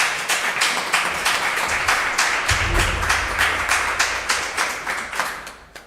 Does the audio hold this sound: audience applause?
yes